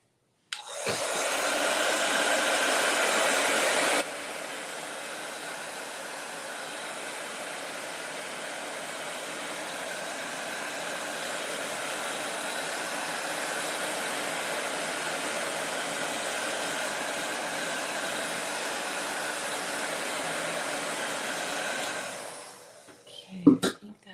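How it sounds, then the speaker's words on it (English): A blow dryer whirs steadily for about twenty seconds, louder at first and then settling to a constant rushing hum before switching off. "let me use the blow dryer. I have a heat tool blow dryer"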